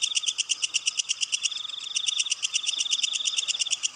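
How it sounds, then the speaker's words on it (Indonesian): Frogs and insects call at night in a dense, rapid pulsing chorus, a steady rhythmic trill that repeats evenly several times a second, moderately loud and continuous without any voices. "Kalau nggak suara kodok ya suara belalang"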